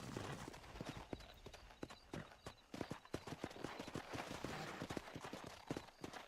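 Horse hooves clip-clop steadily throughout in Red Dead Redemption, a dense, continuous galloping rhythm of many quick thuds at moderate loudness, with no talk over it.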